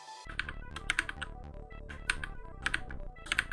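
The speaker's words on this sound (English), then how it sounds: "This is a new keyboard that I got." Rapid typing on a new computer keyboard: crisp, close key clicks in irregular bursts with brief pauses, loud and clear with no voices.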